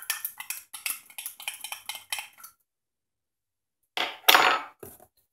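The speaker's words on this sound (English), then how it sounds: "We're gonna take our little tool here and poke through the hole." A small metal tool pokes through the hole in the metal cap of a homemade alcohol lamp, making a close run of quick clinks and taps, then a pause and a final louder scraping clatter.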